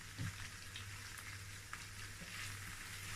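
Beef frying in oil with tomato paste, curry and ground black pepper, a steady close sizzle and crackle that carries on alone without pause.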